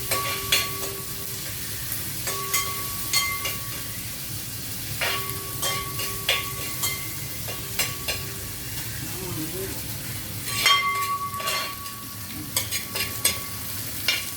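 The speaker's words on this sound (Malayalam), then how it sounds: "ചെറിയ ഉള്ളി നല്ല രീതിയിൽ മൂപ്പിക്കണം" Shallots sizzle and crackle in a pan with ginger and garlic, a steady frying hiss under periodic scraping stirs and clinks, close up for the whole stretch, with faint talk now and then.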